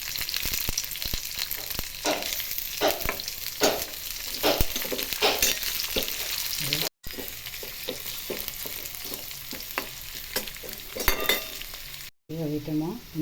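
Curry leaves, chillies and other tempering ingredients crackle and sizzle loudly in hot oil while being stirred, with sputtering pops throughout and a couple of brief breaks.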